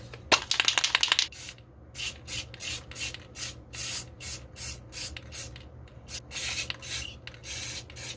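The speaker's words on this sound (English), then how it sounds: "I'm going to go ahead and give a matte clear coat spray paint over these" Matte clear coat spray paint hissing from an aerosol can in a rhythmic series of short bursts with brief pauses between them, close and fairly loud, with a rattle of the can at the start.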